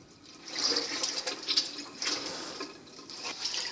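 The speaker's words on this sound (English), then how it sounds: "I wash my tripe like this, clean it out real good" Running water rinsing raw beef tripe for menudo, a steady splashing wash with bursts of sloshing and trickling, fairly close and moderately loud, with no talking.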